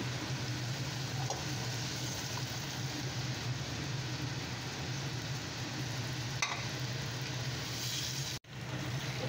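Half a kilo of pumpkin sizzles steadily as it is sautéed and stirred in a spice masala for halwa kaddu salan, a continuous close frying hiss with a few faint scraping stirs and no talking.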